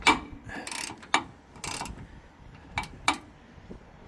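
A ratchet tightens the mounting bolts on a new electric jack for a race trailer, giving short bursts of close metallic clicking separated by brief pauses.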